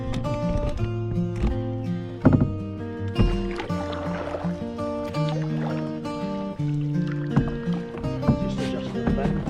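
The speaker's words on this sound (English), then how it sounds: "Right, that's a motor. That's all the horsepower." A boat motor runs steadily on the River Ouse, a close, droning engine hum with harmonic tones and occasional knocks, under light water and wind noise.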